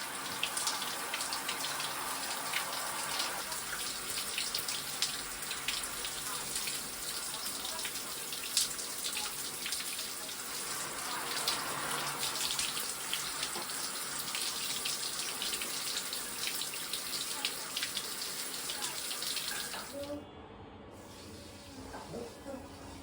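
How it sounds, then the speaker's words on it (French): Water pours steadily from a tap as a pet dog gets a shower indoors. The hissing spray runs continuously for about twenty seconds, then shuts off, leaving a quieter room with faint drips. "Il fait la douche."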